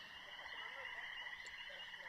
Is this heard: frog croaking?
yes